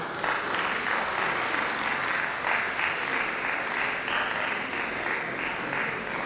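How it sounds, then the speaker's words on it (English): An audience at an annual registry lecture claps in a sustained, dense burst of applause, steady and even from start to finish with no voices over it. "Please sustain the applause for them"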